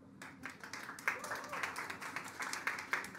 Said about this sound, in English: I would like a round of applause of those who thinks yes